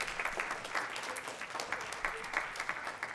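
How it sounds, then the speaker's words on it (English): Audience applause at a middle school band Christmas concert, a fairly faint, distant and steady clatter of many hands clapping. "So if you could give him a round of applause, please, for his work with that."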